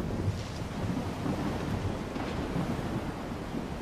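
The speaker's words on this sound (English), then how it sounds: "Storms are very loud." A thunderstorm in the video game S.T.A.L.K.E.R. 2 rumbles as a continuous low roar of rain and wind, with deep thunder swelling throughout and no voices.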